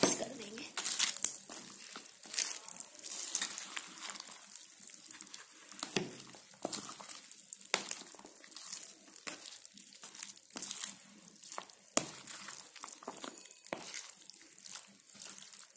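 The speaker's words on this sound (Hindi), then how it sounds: "ये पूरी चाट को हम अच्छे से मिक्स कर देंगे।" Matar chaat being mixed in a bowl, soft repeated wet squelching and crinkling stirs in an irregular rhythm, close and fairly quiet.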